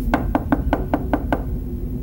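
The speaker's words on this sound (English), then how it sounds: "knocked timidly" Seven evenly spaced knocks on a door, light and quick in a steady rhythm, close by and clear over a faint background.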